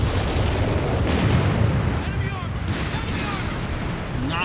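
Rumbling, crackling barrages from Whizbang rocket artillery in Company of Heroes 3 run continuously and loud, with whistling streaks and distant blasts layered through the dense battle noise.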